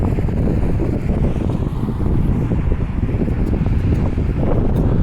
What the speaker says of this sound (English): Wind is the biggest enemy to video makers.